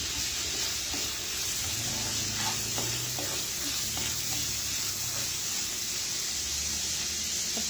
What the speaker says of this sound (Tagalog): Yung ginawa kong collagen na galing sa paa ng manok, ayun po ang isasabaw ko dito.